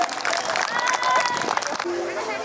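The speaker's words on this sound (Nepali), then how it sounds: "कृपया यहाँको माझबाट मैले जोरदार तालीको अपेक्षा गरेँ।" Loud applause at a Losar celebration program in Boudha, a dense crowd clapping steadily and filling the room, with cheering and voices mixed in.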